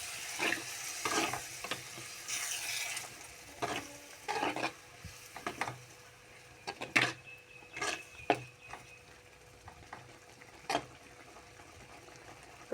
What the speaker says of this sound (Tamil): இப்போ இது நல்லா கொதிக்குது ஃப்ரெண்ட்ஸ்.